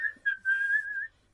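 A person whistles a short tune alone, a few clear notes with a brief break, then one long, slightly wavering tone.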